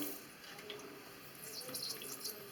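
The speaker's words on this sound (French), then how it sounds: "Donc la fuite membrane, écoutez ce bruit." Water running continuously from a toilet fill valve with a leaking membrane, a soft steady hiss of flow with faint higher trickling sounds and no voices.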